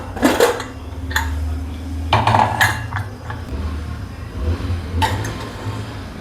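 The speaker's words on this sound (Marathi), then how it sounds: "मी आता खोलते कुकर" Metal clanks and clinks of a pressure cooker lid being opened after cooking usal, a few sharp knocks scattered over a steady low hum, close by.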